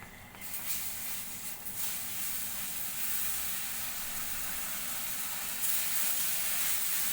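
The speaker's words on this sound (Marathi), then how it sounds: "आता त्याच्यामध्ये आपण हे गरम केलेलं पाणी टाकून घेणार आहोत" Hot water hits roasted water chestnut flour in a pan for sheera with a loud, steady sizzling hiss that carries on without a break.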